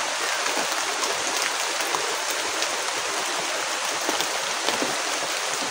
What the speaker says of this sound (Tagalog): Grabe guys, naabutan talaga ako ng ulan dito.